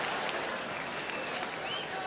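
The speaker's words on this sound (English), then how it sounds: "Clap your hands." A comedy club audience claps steadily throughout a stand-up set, a dense, even wash of applause with no talk over it.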